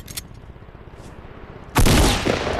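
Loud video game gunfire breaks out suddenly after a quiet stretch of low background noise, a dense rattling burst that continues to the end.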